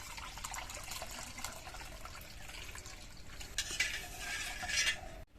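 Watermelon paste stirred into cooled milk in a pan, a steady scraping and liquid swishing of a spoon against metal, close and continuous, growing louder and busier near the end.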